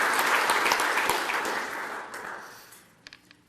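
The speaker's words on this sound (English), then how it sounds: "let's give them one more round of applause" An awards ceremony audience at a college gives a full round of applause that starts loud and dense, then thins and fades away, leaving a few scattered claps at the end.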